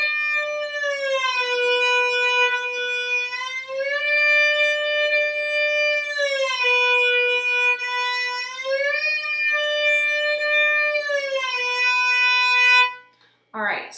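A violin slides smoothly up and down between notes, rising and falling over and over like a wailing siren, held steady and close.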